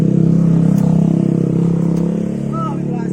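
A motorcycle engine drones and revs close by, a loud steady pulsing hum with a slight slowdown, while people talk over it.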